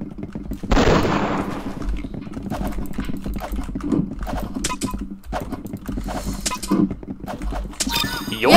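Gunfire in the shooter game Arsenal, a sharp burst of shots followed by scattered clicks and taps, with players talking over the action.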